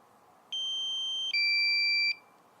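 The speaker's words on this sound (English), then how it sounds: "That's a problem. Low battery." A DJI Mavic Air drone sounds its low battery warning: two sustained electronic beeps, the second pitched lower, each lasting under a second over faint background hiss.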